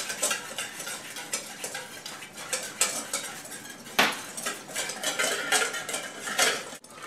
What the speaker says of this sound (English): Here you can see I've just mixed the lime juice in with the paste, broken it down